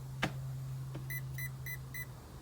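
Four evenly spaced electronic beeps from a Spektrum Firma 160 ESC indicating setting 4, thin and clear over a low steady hum, with one soft click before them.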